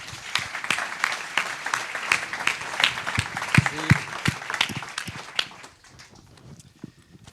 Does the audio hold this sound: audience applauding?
yes